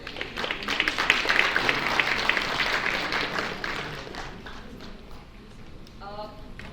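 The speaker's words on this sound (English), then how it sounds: "A huge round of applause for our guests, please." Audience applause for guests at a fundraising event, a dense wash of clapping that swells and then gradually thins, with a voice speaking near the end.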